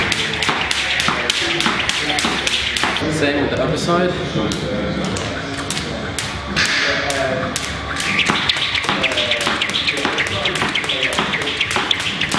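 Jump rope swung for single unders, its rope tapping the floor in a fast, steady rhythm throughout, while a person talks over it.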